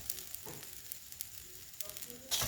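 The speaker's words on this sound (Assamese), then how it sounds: "মই দালি আৰু চাউলখিনি 3ৰ পৰা 4 মিনিট ভাজি ল'লোঁ" Dal and rice are frying in a pan, a soft, quiet sizzle with scattered light crackles and a brief scrape of stirring near the end.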